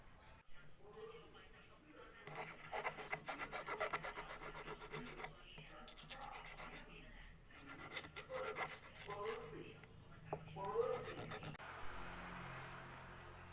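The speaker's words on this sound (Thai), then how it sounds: "เราจะขัดด้วยตะไบนะครับ" Steel being hand-filed clean after hardening a homemade fishing hook, giving repeated raspy rubbing strokes through most of the stretch, fairly close and moderate in level, with some background noise.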